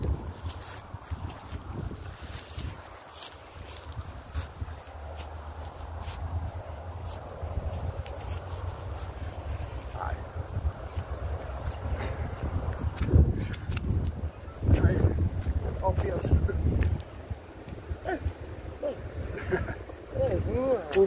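Wind on a beach buffets the microphone in low, rumbling gusts that swell and fade unevenly, with voices faintly underneath.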